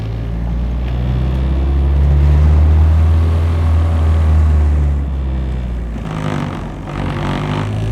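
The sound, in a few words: Nissan 240SX idling noisily on polyurethane motor mounts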